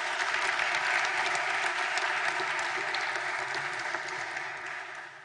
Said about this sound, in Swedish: En varm applåd till Lars E.O. Svensson